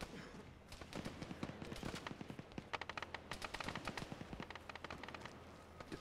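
Rapid bursts of gunfire crackle through a video game firefight inside a hardened building, shots dense and overlapping throughout with sharp transient peaks, while players talk faintly beneath.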